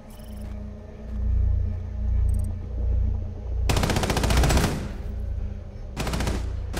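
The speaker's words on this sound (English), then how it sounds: "Nice machine gun." Bursts of automatic machine gun fire in Rainbow Six Siege on the Bank map. Two loud, rapid rattling volleys sound close by over a low, pulsing game rumble, with short faint clicks between them.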